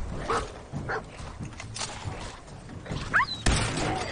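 A dog in the video game Fallout 4 gives soft whimpers and short yips against low game ambience, moderately close, with no speech.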